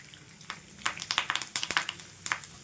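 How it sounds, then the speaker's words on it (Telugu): Peeled garlic and onions frying in a pan, giving a quiet, steady sizzle broken by irregular crackling pops and spits in quick clusters. "వేసేసుకొని ఇవన్నీ కూడా మంచిగా ఫ్రై చేసుకోవాలి"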